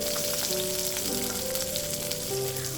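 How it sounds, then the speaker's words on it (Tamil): A handful of small shallots frying in oil, being prepared for a dried-fish chammanthi, gives a loud, steady, continuous sizzle with no voices over it. "அதே எண்ணெயில் நல்லா ஒரு கைப்பிடி அளவுக்கு சின்ன வெங்காயத்தை சேர்த்துக்கிறேன்"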